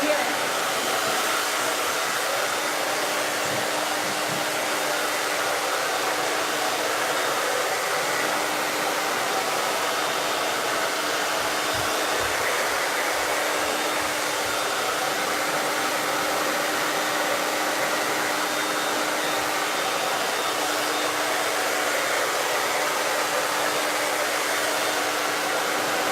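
A hair dryer blows steadily while drying someone's hair, a continuous loud whooshing hum that runs through the whole stretch without pause, with no talking over it.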